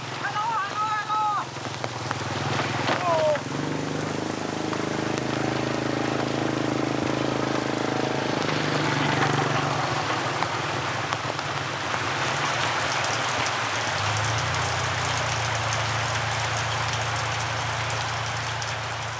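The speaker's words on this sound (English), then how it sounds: "The torrential rain transforms the tracks into slimy," Torrential monsoon rain in the mountains of Vietnam pours as a dense, steady hiss that fills the whole stretch, with a low rumble beneath it.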